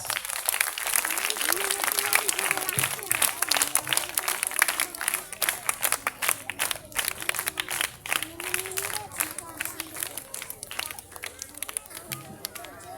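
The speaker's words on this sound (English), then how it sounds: "Give her big claps." Crowd applause for a pre-primary storytelling competition winner at a school prize ceremony, dense sustained clapping over about thirteen seconds with some background voices.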